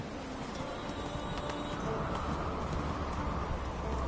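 Roach the horse from The Witcher 3 gallops with a continuous rush of hoofbeats under a dense wash of wind and movement noise, loud and close throughout.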